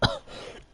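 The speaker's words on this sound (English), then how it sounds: "Forgive me, I am coughing already" A single short cough, or throat clearing, bursts out close to the microphone from a live motorsport commentator and trails off into quiet room tone.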